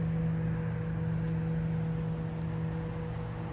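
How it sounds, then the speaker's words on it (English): A low, steady engine drone with a constant hum from a boat passing at a distance on the foggy Fraser River, heard without any voices. "I hear a boat out there, I don't see it though."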